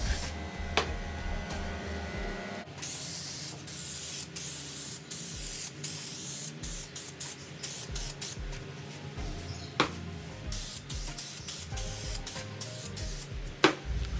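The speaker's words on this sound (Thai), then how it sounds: "เราต้องพ่นไปในชิ้นงานแล้วก็พ่นไปที่ลามิเนตหรือว่าฟอร์เมก้านะครับ" Contact spray adhesive hisses from an aerosol can onto a wooden workpiece and laminate sheet in a home kitchen build, with repeated close bursts and brief pauses punctuated by occasional knocks and handling sounds.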